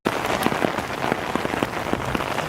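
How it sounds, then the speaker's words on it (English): Steady rain falls hard on surfaces outdoors in Japan, a dense continuous patter with individual drops ticking through, loud and close, with no one talking. "So we got caught in the rain"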